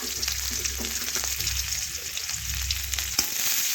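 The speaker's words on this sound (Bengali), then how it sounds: "এখন পেঁয়াজ একটু লাল লাল করে ভেজে নিচ্ছি" Chopped onion fries in white oil in a wok, giving a soft continuous sizzle with faint stirring scrapes and a low background hum.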